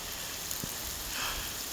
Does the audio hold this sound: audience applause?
no